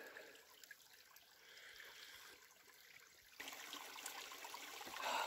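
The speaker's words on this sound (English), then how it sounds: "So the water is still running underground, and it's come back up above ground." A small stream of water flows above ground again after running underground through a dry, drought-stricken area, trickling faintly and steadily, growing a little louder partway through.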